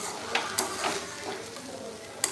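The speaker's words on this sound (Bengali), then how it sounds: "এদিকে এই যে ডালিয়া রান্না হচ্ছে দেখে নাও" Dalia (broken wheat) cooks in a pan with a soft, steady sizzle, broken by a few sharp clicks of a utensil against the pan, close and alone without talk.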